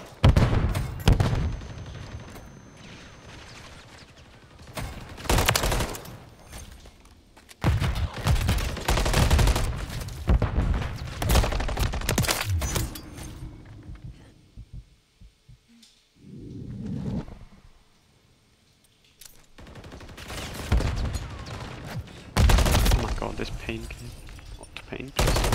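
Gunfire rings out in a Call of Duty Ranked Hardpoint match on the Invasion map, with repeated bursts of loud automatic shots and booms separated by brief lulls, while players talk over it at times.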